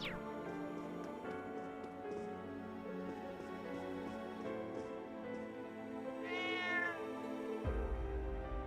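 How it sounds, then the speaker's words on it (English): An old cat in the video game Trails of Cold Steel 3 gives a short meow over a steady bed of game music, with a brief rising cry near the end. "Wow, you are one old cat."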